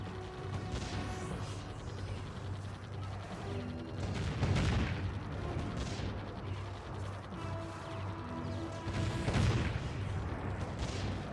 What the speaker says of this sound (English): Cannons are killing them.